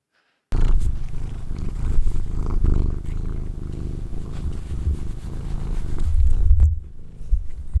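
Bombay black cat purring loudly and steadily up close, a continuous low rumbling throb that carries on for several seconds with no talking.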